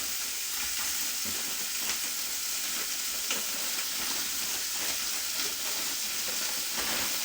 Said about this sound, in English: Let's cook up some sausages there.